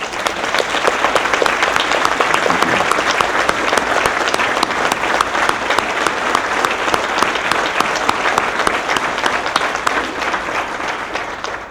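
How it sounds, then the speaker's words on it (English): Loud, sustained round of applause from guests at a charity fundraiser dinner, thick and even throughout with a slight easing at the end, no talking over it. "a huge round of applause."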